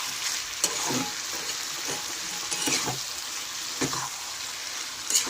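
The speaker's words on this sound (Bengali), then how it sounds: "ভালো করে নেড়ে মিশিয়ে নিলাম" Cauliflower stalks coated in mustard paste stir-fry in a pan, giving a soft continuous sizzle with several distinct scraping stirs spaced a second or so apart, close and with no voice over it.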